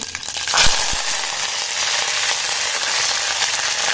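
Curry leaves dropped into hot oil for a dhokla tempering crackle and spit, a sharp sizzling burst that settles into a steady, close frying hiss.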